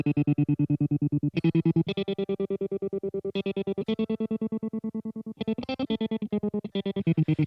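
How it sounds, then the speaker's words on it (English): Boss Katana MKII guitar amp playing a guitar tone through its slicer effect, which chops sustained distorted chords into a steady, rapid gated rhythm; loud and close, with chord changes every second or two and no talking. "And next thing you know, you got the slicer."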